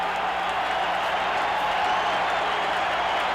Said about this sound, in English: Royal Stadium crowd on its feet.